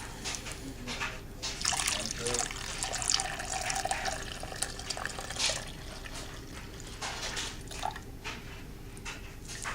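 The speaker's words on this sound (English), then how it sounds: "I'm getting ready to pour in my warm water." Warm water is poured into melted shea butter and oils while making homemade lotion, giving a continuous splashing trickle of liquid into a container, moderately close, with brief quiet talk.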